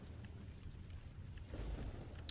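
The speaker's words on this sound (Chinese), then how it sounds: "这边一直在下雨" Steady rain falls in a zombie survival game set in a spore-infected world, a soft continuous hiss with low rumbling underneath, swelling slightly near the end.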